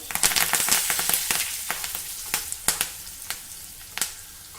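Asafoetida and curry leaves dropped into a hot tempering with green chillies, the gas switched off, giving an up-close crackling sizzle with sharp spitting pops that thin out and grow sparser as the oil settles, no speech.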